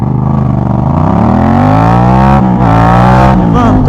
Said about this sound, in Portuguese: Levantou só no acelerador a moto, hein?